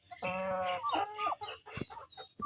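Desi chickens on a small farm cluck and squawk in a busy, overlapping burst, close and fairly loud, with a few sharper calls near the end.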